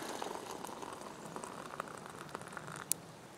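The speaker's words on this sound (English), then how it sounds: "hot water sounds different when you pour it than cold water" Hot water is poured into a cold cup outdoors beside a wooden tree grill, making a steady, close splashing patter with faint bubbling and no talk.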